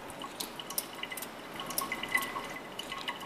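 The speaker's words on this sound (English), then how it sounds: "Then you'll rinse your slide with water." Water rinses a Gram stain slide in a lab, making faint, scattered drips and trickles that are quiet and close, with no talk.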